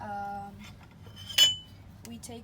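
Baghrir dough is mixed in a bowl, with a few clinks and scrapes of a utensil against the bowl and a brief louder clatter midway, otherwise quiet.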